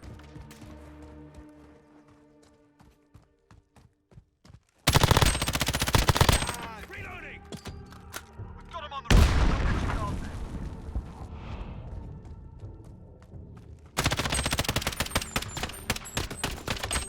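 Gunfire in Call of Duty Modern Warfare multiplayer on PS4 Pro: rapid automatic bursts and loud shots in three dense stretches, separated by a quieter passage of lighter clicks and game sounds.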